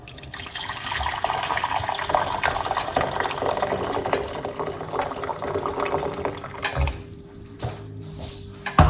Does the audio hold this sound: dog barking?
no